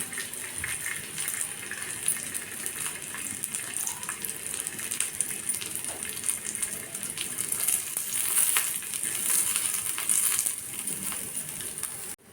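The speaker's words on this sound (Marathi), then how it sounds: "यामध्ये आपल्याला लसूण आणि अद्रक भाजून घ्यायची आहे" Garlic and ginger frying in a little oil for a Maharashtrian sev bhaji, a steady, moderately loud hiss and crackle that runs unbroken with no voices.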